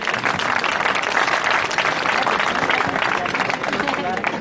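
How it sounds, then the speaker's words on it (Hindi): A crowd at an annual school function applauds loudly and steadily, dense clapping filling the whole stretch without a break. "एक बार जोरदार तालियां हो जाए हमारे सैनिकों के लिए"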